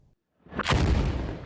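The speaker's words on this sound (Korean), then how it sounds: "폭발음과 함께 흰 연기가 솟아오르고 하마스 대원들이 연이어 총격에 나섭니다" A heavy explosion bursts out after a moment of near silence during urban fighting in Gaza City, a loud broad roar that lingers and rumbles on.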